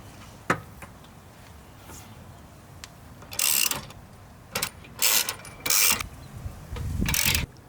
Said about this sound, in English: Now tighten all the bolts